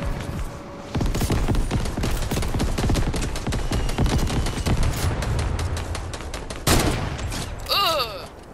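Rapid bursts of gunfire in the Fortnite video game, a dense run of loud close shots stretching across the clip with a sharp blast near the end and faint game effects after.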